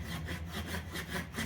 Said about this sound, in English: Sawing it off a little large here